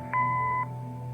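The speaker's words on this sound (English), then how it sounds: "Leave a message after the beep" A single electronic answering-machine beep, a steady mid-pitched tone lasting about half a second, clear and close over a low background hum, with no voices.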